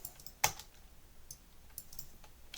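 Quiet typing on a computer keyboard, a sparse scatter of soft key clicks with one sharper tap near the start, close by and alone without talk.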